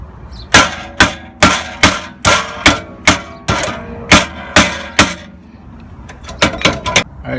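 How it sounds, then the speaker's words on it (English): A hammer strikes the brake rotor of a BMW E46 M3 again and again, about a dozen loud, close metallic blows in a steady rhythm, then a short pause and a quicker cluster of hits, with no voices. "I gotta hammer this one"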